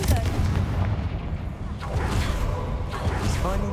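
An explosive Confringo spell goes off in a video game, a dense booming blast with rushing, whooshing noise that fills the whole moment.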